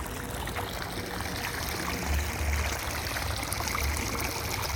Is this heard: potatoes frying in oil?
no